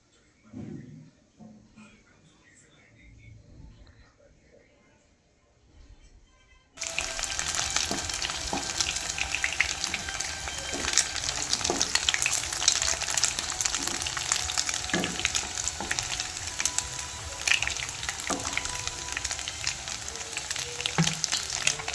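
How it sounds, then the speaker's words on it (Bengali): Chicken pieces for hot garlic chicken frying in a pan: after a quiet stretch with a few soft kitchen sounds, loud continuous sizzling starts abruptly and holds steady up close, with occasional clinks and stirring. "দিয়ে এগুলো আবার ভেজে তুলে নেব।"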